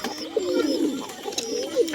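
Pigeons coo steadily in a low, soft, rolling murmur from a nearby loft where a hen sits with her chicks; a few faint higher chirps float above the continuous cooing.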